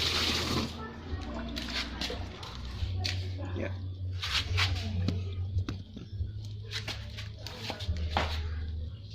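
Water flushes through a washing machine drain pipe during a repair for constant leaking, a steady rushing and splashing with intermittent knocks, close by and moderately loud.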